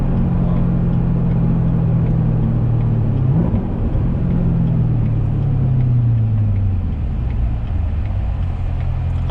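A Chevrolet Corvette C7 ZR1 accelerates hard at high speed, heard from inside as a loud, droning engine roar that climbs in pitch, drops briefly at a shift, then rises again under road noise.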